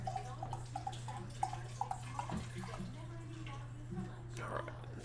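Saint Arnold Divine Reserve 18 Russian imperial stout is poured into a glass, a quiet, soft trickle and gurgle with small drips over a low steady hum, while someone speaks softly.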